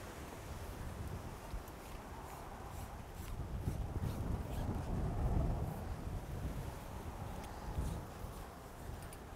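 Wind buffets the microphone at an outdoor climbing crag, a steady low rumble that swells and eases in gusts, with no voices over it.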